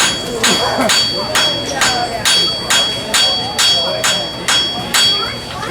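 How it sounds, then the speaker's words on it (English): A blacksmith strikes a glowing blob of hot metal with the pointed end of a hammer, spreading it into a leaf shape; about ten sharp, evenly spaced ringing blows land close by, one after another. "I'm going to hammer right in the center of that blob of metal."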